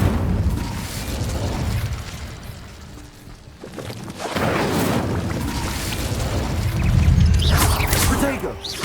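Casting the Incendio fire spell in Hogwarts Legacy releases a whooshing burst of flame that swells into a rumbling, crackling roar, with game effects continuing around it.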